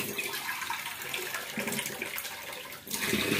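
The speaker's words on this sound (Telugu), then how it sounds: "ఉడికితే మనకి గ్రేవీ కావాలి కాబట్టి మనం ఇంత వాటర్ వేసుకోవాలన్నమాట" Water pours steadily into a pot of egg and potato curry, a continuous splashing stream heard alone and fairly close, with a brief dip near the end.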